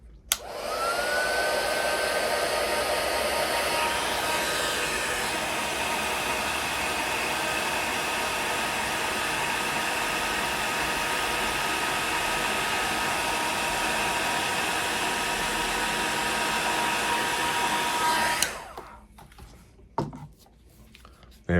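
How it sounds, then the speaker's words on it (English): Heat tool blowing hot air steadily to melt embossing powder on paper for handmade paper tree decorations, a loud continuous whooshing hum lasting about eighteen seconds before cutting off, followed by a few faint handling clicks. "go ahead and just heat set these with your heat tool."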